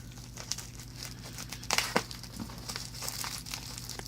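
An older, somewhat dull knife cutting through layers of packaging, with crinkling plastic and paper, scraping and tearing, close up in irregular bursts, loudest midway.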